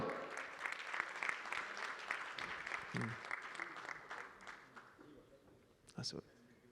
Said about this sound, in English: applause again for our winner